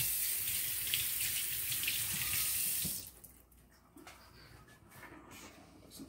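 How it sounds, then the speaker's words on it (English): Running tap water pours into a sink as hands are rinsed, a loud steady gush for about three seconds that cuts off, followed by quieter drips and small handling sounds. "It's always good to rinse. Rinse your hands."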